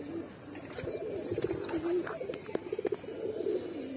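Soft, low pigeon coos repeat in short throaty bursts close by, with faint chirps and rustling around them.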